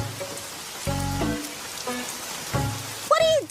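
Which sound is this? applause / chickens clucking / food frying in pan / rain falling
rain falling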